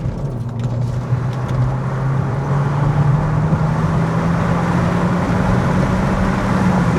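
A Volkswagen Golf MK5 GTI petrol hatchback with very high mileage pulls gently up through the revs on the road, a loud steady engine drone rising slowly in pitch under road noise.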